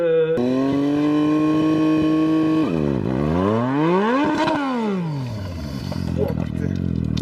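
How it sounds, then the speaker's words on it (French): A motorcycle burnout: the engine revs hard while the brake holds, rear wheel spinning to make smoke, with rising and falling howls of revving, a sharp sweep up and down, then rough clattering at the end. "Le concept est d'accélérer et de freiner en même temps pour faire de la fumée avec la roue arrière."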